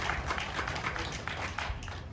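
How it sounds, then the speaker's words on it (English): An audience claps steadily in a round of applause at an indoor program event, a dense and even patter of many hands that holds at a moderate level throughout. "Round of applause."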